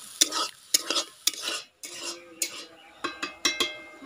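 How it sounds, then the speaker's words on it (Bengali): A spice paste with turmeric and a little water for village-style shol fish curry is stirred in a pan, with sharp repeated scrapes of a spoon against metal over a soft sizzle, close and clear with no talk. "মশলাটা ভালো করে কষে নেব।"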